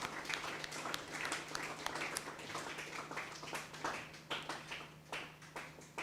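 A church congregation claps in acclamation after a scripture reading, a dense, steady patter of many hands filling the room for about six seconds over a faint low hum.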